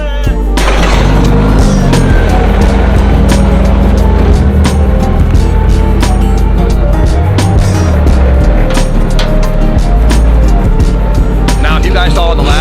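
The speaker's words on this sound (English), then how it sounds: "we're gonna start the video off by getting this thing running on a dyno and seeing what this thing can do" A turbocharged K-series-swapped FRS runs on a dyno, loud and close, its engine droning and surging with sharp pops and crackles throughout.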